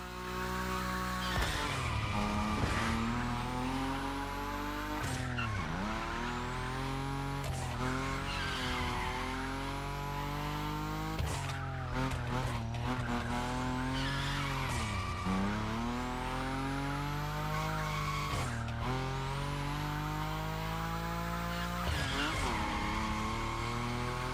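A Nissan Nismo drifting at high speed in The Crew Motorfest, its engine droning and repeatedly rising and dipping in pitch while the tires squeal through long slides, loud and continuous.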